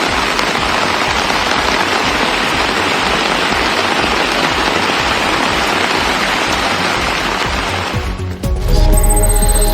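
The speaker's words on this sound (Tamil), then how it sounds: "வானக்கன்காடு, கல்லாலங்குடி உள்ளிட்ட இடங்களில் சுமார் அரை மணி நேரம் மழை பொழிந்தது" Steady, dense rain pours down in a loud, continuous hiss of drops on surfaces for most of the stretch, then breaks off near the end into a different mix of clattering noise.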